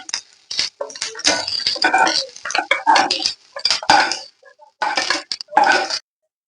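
Roasted onion pieces scraped from a pan onto a plate, with a dense run of close metallic clinks and scrapes of a utensil against cookware in short bursts, separated by brief pauses.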